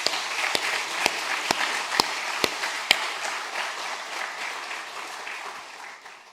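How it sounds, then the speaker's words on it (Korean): A church congregation claps during a sermon, a burst of applause with a few sharp, evenly spaced claps standing out before the sound gradually fades away. "그 하나님 영광의 박수 우리."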